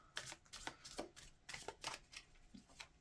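Oracle cards are shuffled in quick repeated riffles and flicks that come in a steady, busy rhythm. They are close but soft, and no one talks.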